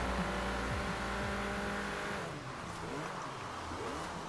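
A Golf's engine races in the Forza Horizon 4 video game, droning loud and close with shifting, falling revs, then settling to a rougher, quieter rumble partway through.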